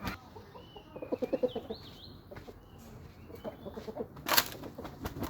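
A young gamecock clucks close by in quick, uneven bursts, with faint chirps from other birds in the background and no talking.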